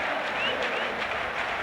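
Vasco da Gama supporters in a packed stadium at a 1998 Campeonato Carioca match against Fluminense, singing a samba honoring the club's centenary; a dense, steady roar of massed voices and clapping rises and falls at a distance.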